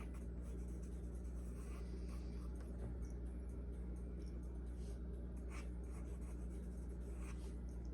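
Pencil scratches steadily across paper in a holiday gnome drawing lesson, soft continuous strokes that are quiet and close, with no talking.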